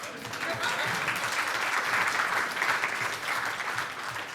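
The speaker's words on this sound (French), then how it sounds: "Oui, on peut applaudir." Steady applause from a theatre audience at a comedy stage show fills the space, a dense wash of many hands clapping at even loudness throughout with no voices on top.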